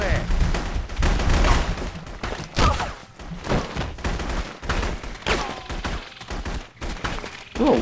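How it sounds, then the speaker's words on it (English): Dense gunfire in the video game The Punisher, with rapid bursts and heavy thuds, loud and continuous, with voices talking over the shooting. "There's a lot of gunfire going on."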